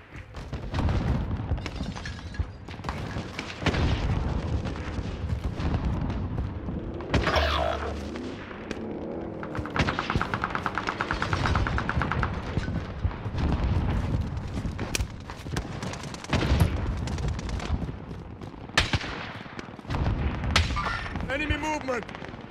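Gunfire and booming shots in the Call of Duty Warzone Pacific video game during a team deathmatch with an M4A1 rifle. The shooting is loud and continuous, with voices and game sounds mixed in throughout.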